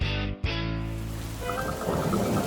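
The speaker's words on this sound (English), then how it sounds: "Another rainy day has arrived for Peppa's family." Rain falling steadily in a cartoon pig family's home scene, a dense continuous patter beneath soft background music and melodic tones.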